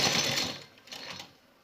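A sewing machine briefly stitches along a shirt border, a soft short whir that fades within a second and a half.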